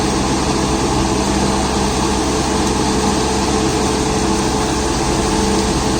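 New Holland Workmaster 106 HP tractor running its PTO while mulching banana plants, a loud unbroken engine drone with a dense mechanical roar that stays steady throughout.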